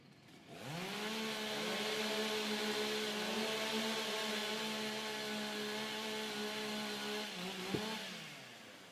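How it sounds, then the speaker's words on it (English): Several chainsaws warm up at a STIHL Timbersports competition, engines revving up together into a sustained loud buzzing whine that holds steady for several seconds before dropping off at the end. "warm up your saws."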